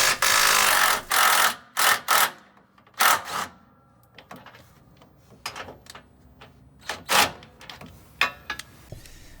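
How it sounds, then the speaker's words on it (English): An impact wrench loosens bolts on the outer side of a Honda Pilot's lower control arm. Several short, loud, rattling bursts are separated by quieter clanks and shop handling noise, with no talking. "I used the impact to loosen all of the bolts that were on the outer side of the lower control arm"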